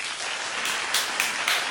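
A studio audience at a reunion show breaks into applause. The clapping is moderately loud and steady, with a few sharper bursts toward the end.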